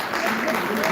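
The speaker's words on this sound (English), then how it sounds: "Please round of applause to the MC." An audience at a school reading strategy launch ceremony claps. A brief, dense wash of applause sounds throughout the room.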